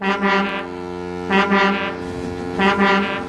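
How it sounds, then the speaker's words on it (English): A loud foghorn sounds three times in a wooden toy railway scene set in a misty valley, each blast a deep, rich, sustained tone of about a second, with short pauses between them. "That foghorn is so loud it rattles my dome."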